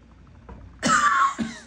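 A person coughs after breathing in ginger ale soda fumes, a brief throat-clearing rasp followed by a harsher burst and a short second hack, close and fairly quiet.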